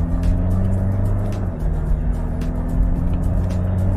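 Mitsubishi Pajero Dakar 4x2 SUV from 2017, its engine pulling under gentle throttle from inside the cabin: a steady low drone and rumble with a slight dip midway, no talking.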